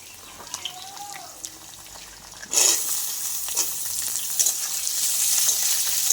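Potatoes and jackfruit seeds hit hot oil with a sudden loud sizzle that keeps frying steadily to the end, after a quieter lead-in of kitchen clatter.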